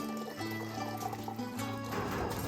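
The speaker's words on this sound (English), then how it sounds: "we made our way to the cellar to pour a pitcher of wine for the" Wine poured into a pitcher in a cellar, a short quiet gurgling pour whose pitch rises as the vessel fills.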